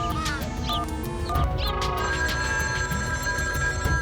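A telephone rings in a Bangla children's cartoon, its bell trilling steadily through the short stretch over a busy soundtrack of music and effects.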